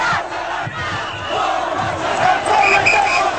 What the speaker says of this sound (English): We were outside the palace with the Chavez supporters when rumours reached the crowd that the opposition march was on its way